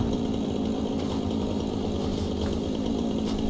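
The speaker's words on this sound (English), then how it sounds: "Oh, my chainsaw stopped." A chainsaw runs in the factory-building game Satisfactory, a loud, continuous buzzing snarl held steady for the whole stretch with no voice over it.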